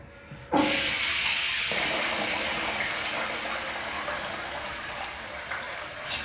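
Tap water runs steadily with a loud hissing gush as a Gillette Sensor3 disposable razor is rinsed, starting abruptly and continuing without pause.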